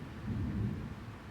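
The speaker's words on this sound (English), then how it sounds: "y'all hear that thunder?" A low, rolling rumble of thunder swells briefly and fades, heard alone without any speech.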